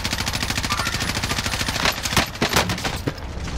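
Rapid automatic gunfire rattles almost without pause in the Call of Duty video game, loud and close, with a few heavier shots cracking near the end.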